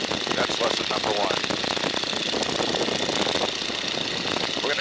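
A small airplane's engine drones steadily in flight, a loud constant rumble with rattling texture filling the whole stretch and no pauses.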